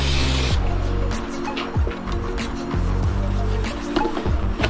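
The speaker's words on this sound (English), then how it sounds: "Just gonna take some brake clean." Aerosol brake cleaner is sprayed onto the oil pan mating surfaces of a Mazdaspeed 3 engine in several loud, close hissing bursts separated by brief pauses and handling clatter.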